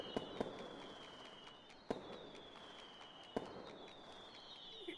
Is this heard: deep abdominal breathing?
no